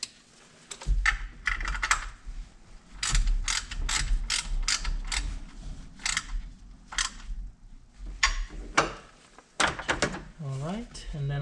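A ratchet tightens a 10mm bolt on the pulley bracket of a New Edge Mustang Saleen S281, producing close bursts of sharp clicking separated by short pauses, with occasional voice sounds in between.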